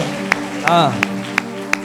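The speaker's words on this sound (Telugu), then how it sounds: "ఇక అందరం కలిసి చప్పట్లు కొడదాం, చప్పట్లు కొడదాం" Congregation at a Telugu church service clapping hands in unison, five sharp, evenly spaced claps over a sustained tone, with a voice rising briefly in between.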